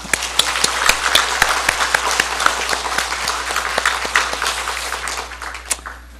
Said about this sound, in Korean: 우리 사랑하는 부모님들에게 박수 한번 치십시다.